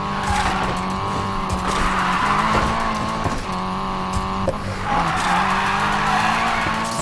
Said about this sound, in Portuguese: Melhor carro pra fazer drift que eu peguei no jogo até agora.